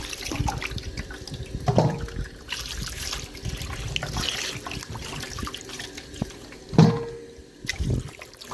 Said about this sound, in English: I am removing it as I rinse from one bowl and placing it into another.